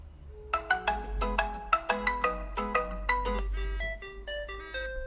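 A bright melodic incoming-call ringtone from a MASX MOSS II smartwatch plays a quick chiming tune of repeated short notes, moderately loud over a low background hum.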